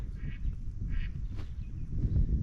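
Ducks quack in a few short bursts over a low rumbling shoreline background while pike fishing, nearby and moderately loud.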